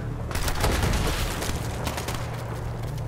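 Dense Borderlands 3 gunfire pours out continuously, loud rapid shots blending into a roaring barrage with a heavy low rumble and no pause.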